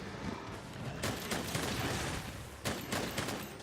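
A light bowgun in the Monster Hunter video game lets off rapid fire shots as a dense, steady rattle of quick game gunfire. It sits at moderate loudness, with two stronger bursts near the start and again later on.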